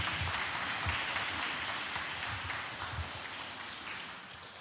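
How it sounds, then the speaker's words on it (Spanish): A church congregation applauds loudly and steadily, dense clapping filling the room and slowly tapering off over a few seconds. "Si usted quiere aplaudir al Señor, dé aplauso a nuestro Dios."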